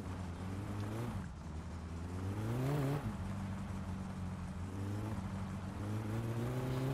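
Car engine in the driving game My Summer Car revving and shifting as the car accelerates, pitch rising in steps and dropping between gears, loud and continuous with no talk.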